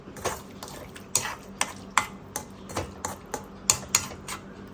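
A spoon stirs beef roast in a pan, giving a steady run of close metallic scrapes and clinks, roughly two or three per second, with no talking over them.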